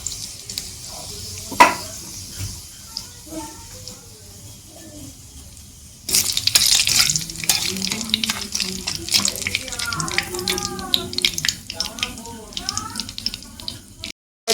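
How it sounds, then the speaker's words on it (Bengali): Panch phoron and bay leaf go into hot oil for an ilish and brinjal curry, setting off a sudden loud sizzle and crackle after a quieter start, with a voice speaking briefly over the frying. "এখন এই যে এর মধ্যে দিয়ে দেবো পাঁচফোড়ন আর তেজপাতা"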